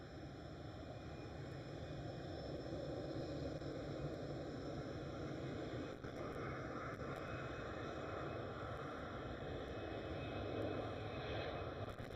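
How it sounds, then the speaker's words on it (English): A KLM Cityhopper airliner taking off at Schiphol, its engines producing a steady, loud, broadband roar with a whining tone that holds unbroken throughout. "And the KLM City Hopper with an early rotation."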